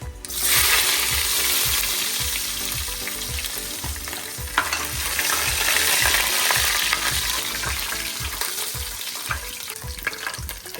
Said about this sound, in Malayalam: തേങ്ങ കുറച്ച് നല്ല രീതിയിൽ മൂപ്പിച്ചെടുക്കാം